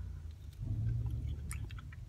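Close, wet chewing of nacho fries supreme during a mukbang, soft squishy bites and mouth sounds with a few sharper crunchy clicks near the end, alone without speech.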